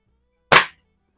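A single sharp crack rings out from a Reximex RPA .177 PCP air pistol fired at paintballs in a garage. It is short and loud with a quick decay, alone in silence.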